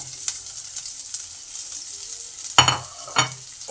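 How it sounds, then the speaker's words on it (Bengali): Chopped onion dropped into hot oil with frying cumin, chili and garlic, giving a steady low sizzle with two sharper bursts of crackle near the end as the onion hits the pan and is stirred. "জিরে লঙ্কা রসুন ভালো করে যখন ভাজা হয়ে গেছে ঠিক সেই সময় পেঁয়াজ কুচিটা আছে সেটা দিয়ে দিলাম"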